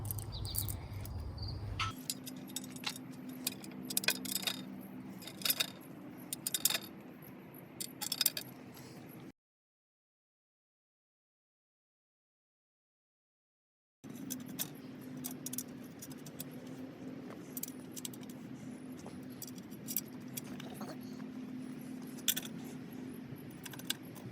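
Short metal screws for mounting a luggage case on a Can-Am Ryker clink and jingle faintly as they are handled, in scattered small metallic taps with a quiet gap midway and background crickets.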